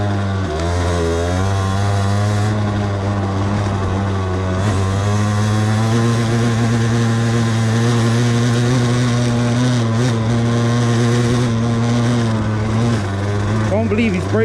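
A Derbi Senda SM 50cc supermoto on supermoto tyres drones loudly off-road, its small engine holding a steady buzzing pitch with brief dips, recorded up close the whole time.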